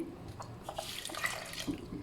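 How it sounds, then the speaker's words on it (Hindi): Water pours into a pot of lentils that were soaked beforehand, a steady, close splashing rush that runs the whole time with no talk over it. "और अब इसमें मैं शामिल करूँगी पानी।"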